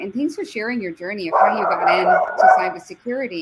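A pet dog keeps barking indoors after a doorbell rang, a run of barks layered under a person speaking throughout, loudest in the middle stretch.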